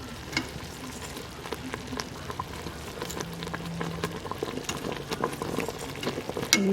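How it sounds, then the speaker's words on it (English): Pork chops simmer in boiling homemade gravy, with a soft continuous bubbling and frying crackle close by. Small pops and occasional stirring sounds rise and fall over a low, even bed. "I'm going to put my pork chops in and just let those simmer for about 15 minutes."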